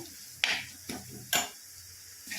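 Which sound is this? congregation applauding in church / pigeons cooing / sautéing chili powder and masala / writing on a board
sautéing chili powder and masala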